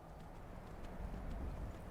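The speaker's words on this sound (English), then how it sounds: "I'm so glad we brought the horse" Horse hooves in the video game Skyrim, a soft, steady clip-clop of a trotting mount set under a constant low rumble of wind and ambience, with no voices.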